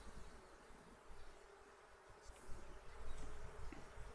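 Bees buzzing around a beehive in a life-simulation video game: a faint, steady insect drone that swells slightly toward the end, with no talking.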